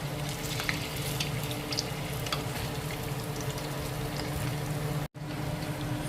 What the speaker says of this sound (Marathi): हे चांगलं डीप फ्राय करायचं. गोल्डन ब्राऊन कलर आला पाहिजे.